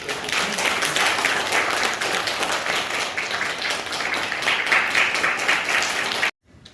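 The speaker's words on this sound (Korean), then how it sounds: "박수 한번 주시오" A church congregation gives warm, sustained applause at a deaconess's retirement ceremony as a plaque is presented. The clapping is dense and even, then stops abruptly.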